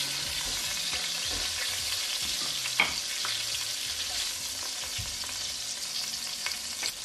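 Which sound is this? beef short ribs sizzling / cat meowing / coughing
beef short ribs sizzling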